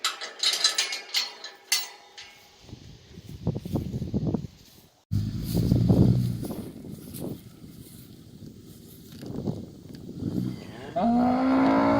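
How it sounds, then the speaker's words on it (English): A Jersey cow in a temporary pen lows in long, full calls from close by, with clatter and movement noise around and a steady tone toward the end. "Nice little temporary pen. Nice little Jersey cow."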